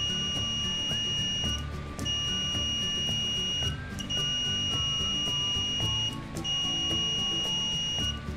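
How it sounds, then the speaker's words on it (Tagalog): An Arduino-driven electronic buzzer beeps in a steady high-pitched tone, repeating in even pulses about every two seconds over a low background hum. "tunog na ang buzzer natin pag 5 milliseconds ang delay"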